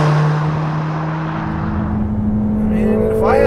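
A Mercedes GLA45 AMG's turbocharged engine drones steadily while climbing a hill, a loud continuous cabin hum with rising pitch near the end.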